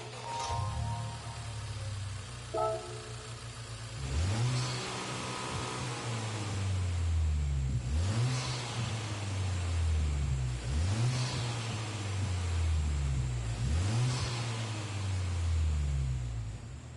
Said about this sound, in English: Let's also like listen to the difference in the engine when it starts up.